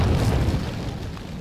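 Grenade blast in Resident Evil 4, a loud low boom at the start that rumbles and slowly fades over the following second, with no voices.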